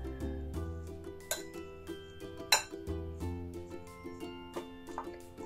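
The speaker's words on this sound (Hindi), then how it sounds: "मिक्स कर लेंगे सारे मसालों को इसमें" Spiced mashed potato filling stirred in a bowl, with repeated light clinks and scrapes of a spoon against the dish and a couple of sharper knocks, close and moderately loud over a steady low background.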